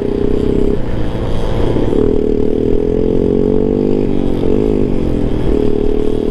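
Honda Ruckus scooter engine riding off-road on an Utah ATV trail, a loud, continuous close-up drone whose pitch rises and dips slightly as the throttle changes, with no talk over it.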